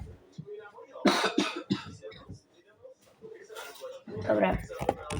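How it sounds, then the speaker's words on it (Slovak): Coughing and throat clearing from a person who says he is sick, a few harsh bursts in quick succession, close and fairly loud, with speech around them. "To ja kašlem."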